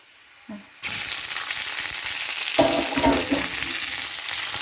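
Shiitake mushrooms stir-frying in a hot pan, a sudden loud sizzle bursting in after a quiet moment and holding steady, with scraping stir strokes swelling the frying noise partway through.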